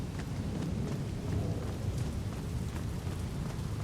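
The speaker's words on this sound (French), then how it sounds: "L'orage. Toujours." A thunderstorm in the Little Orpheus video game, with steady heavy rain hissing and low thunder rumbling throughout, loud and continuous, with no voices.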